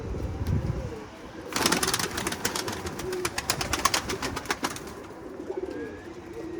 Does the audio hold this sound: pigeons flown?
yes